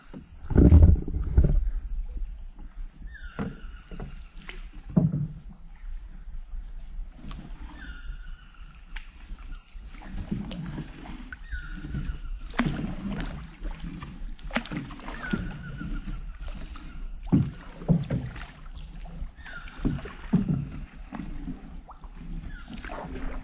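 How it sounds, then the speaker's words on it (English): A canoe paddled by hand along a mangrove river in the jungle near Ladrilleros, Colombia, with soft repeated paddle strokes and water swishes, several small splashes and knocks against the hull, and a faint steady background hum. "I need to stand up and paddle"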